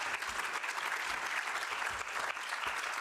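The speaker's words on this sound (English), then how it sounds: "Can I ask you for a warm applause for my excellent panelists?" Warm audience applause for panelists at a workshop on forced labour in global supply chains, steady clapping at a moderate distance, quite faint, with no talk over it.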